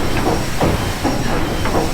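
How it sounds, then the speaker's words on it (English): Triple expansion steam engine aboard the paddle steamer Waverley, a steady mechanical rumble with soft hissing and faint rhythmic thumps repeating roughly every half second, close and continuous. "there's the triple expansion steam engine going thump thump thump"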